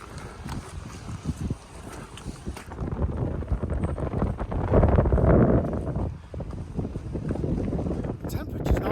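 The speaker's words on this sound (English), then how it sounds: "but the wind's really biting." Biting wind on a Lake District fell walk between Grasmere and Patterdale roars and buffets against the microphone in uneven gusts, loudest around the middle, with no talking.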